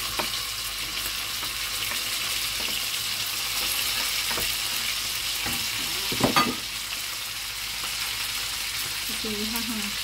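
Onion, garlic and tomato sauté in a hot pan for a sponge gourd dish, giving a continuous loud sizzle with occasional stirring scrapes and clinks close by, and a brief voice near the end.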